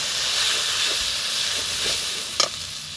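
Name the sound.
water added to frying spices sizzling in a pan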